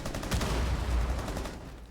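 Gunfire from a Rainbow Six Siege esports match, a dense burst of overlapping shots with a DMR in the mix, steady and loud for most of the stretch and then tapering off toward the end.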